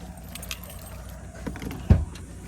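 Keys jangle near a parked car while it is being unlocked, giving a soft, brief metallic rattle and a single sharper click near the end, all fairly quiet against light outdoor background noise.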